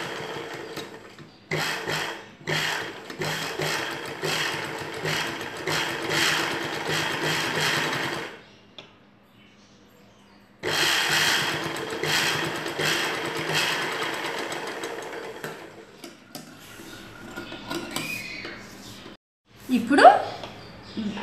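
A sewing machine stitches a blouse piece in two long loud runs separated by a pause, then a shorter burst, with a person talking over and between the stitching.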